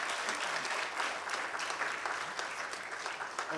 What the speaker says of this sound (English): That is not a big enough round of applause for Mr. Smallholder